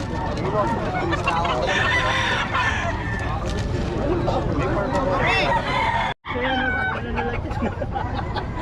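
Native chickens at a market or yard, roosters crowing and hens clucking close by and fairly loud, with people talking throughout.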